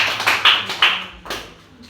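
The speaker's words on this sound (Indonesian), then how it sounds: "tepuk tangan untuk Lana dan Kuncoro." A class applauding students, a few scattered claps and taps in quick succession that thin out and stop within two seconds, close and sparse, with no voices over them.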